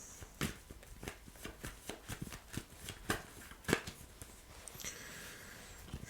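Tarot cards are shuffled by hand in a quick run of crisp riffling flicks and soft slaps, fairly close and alone, easing into quieter handling toward the end.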